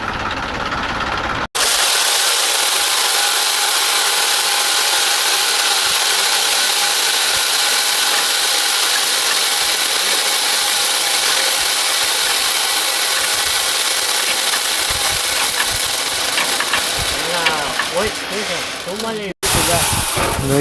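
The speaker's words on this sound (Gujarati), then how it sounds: "આવી ગયું છે ટ્રેક્ટર।" A tractor engine runs loud and continuous in a field during chickpea sowing, a steady rumbling drone that holds for about twenty seconds.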